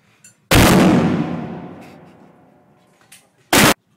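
A loud gunshot at an outdoor shooting range, one sharp crack with a long decaying echo, then a second abrupt blast three seconds later, close and alone without talk.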